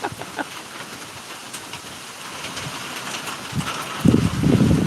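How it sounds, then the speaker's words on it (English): Rain from Tropical Storm Elsa falls steadily in North Florida, a soft continuous hiss with scattered drops, and a louder rumbling rush swells near the end. "So, Cynthia, just be careful that you don't doze off listening to the rain."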